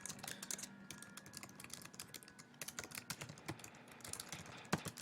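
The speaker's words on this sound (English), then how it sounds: "Alright, so I'm going to type for a bit here so I have more than one line" Fingers tap steadily on a computer keyboard while text is entered in a document, a quiet, close, irregular stream of light clicks with short pauses and a firmer key press near the end.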